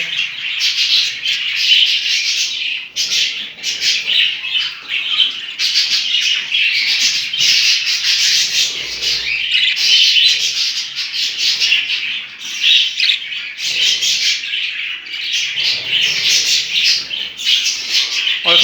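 Budgerigar parents and three chicks in a home breeding aviary keep up a loud, dense chatter of chirps and squawks close by, continuous with brief dips, no talk.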